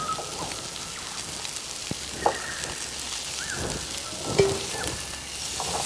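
Floured beef browns in a frying pan, a steady crackling sizzle with a few brief clinks and pan scrapes, close and moderately loud, no talk.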